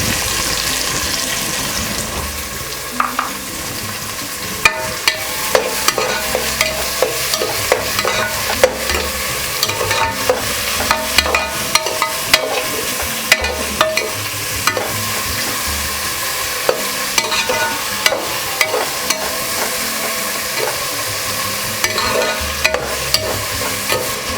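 Three large roughly sliced onions sautéing in a pan for goat trotter paya, a loud continuous sizzle broken by frequent sharp spoon scrapes and clinks against the pan, no talking.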